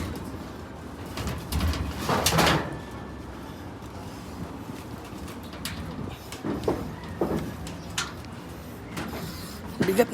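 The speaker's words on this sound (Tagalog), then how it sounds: "Pakain tayo ng ibon." Pigeons coo softly in a loft amid shuffling and fluttering noises in a quiet enclosed space, with occasional louder rustles and low calls.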